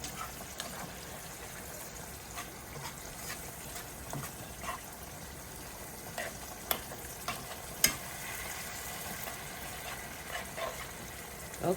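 Bacon cooking and being stirred in a pot for freezer-meal lasagna, a steady low sizzle of frying with scattered scraping and clinking stirring sounds throughout, no talking.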